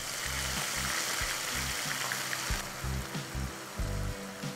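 Coarsely ground ginger fries in oil for a chicken pickle, giving a soft, steady sizzle with faint bubbling and occasional low thumps underneath.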